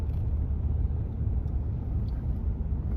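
A car driving on a mountain road, a steady low rumble of engine and road noise filling the cabin throughout, with no talk.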